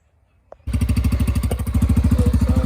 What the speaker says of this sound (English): I'm gonna show y'all what it sounds like without the cap and then with the new cap that we got.